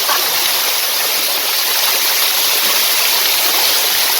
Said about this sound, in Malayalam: നമ്മളിപ്പോ വെള്ളച്ചാട്ടത്തിലാണ്.